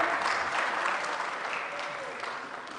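Concert audience applauds a choir at an anthems-of-the-world event, a broad, steady wash of clapping that gradually softens.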